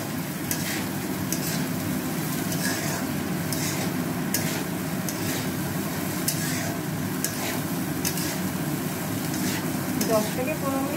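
Food sizzles steadily in a pan with oil and salt, with a spoon scraping and clinking against the pan at irregular intervals, close up, with no talk.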